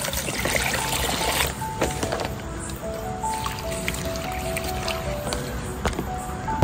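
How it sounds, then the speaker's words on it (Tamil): Water pours and splashes over wet leaves being rinsed, with squishing and dripping sounds coming in uneven bursts close by. "நம்ம நல்லா தண்ணி ஊற்றி அலாசிக்கலாம்"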